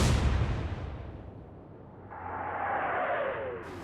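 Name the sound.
naval gunfire from the video game Atlantic Fleet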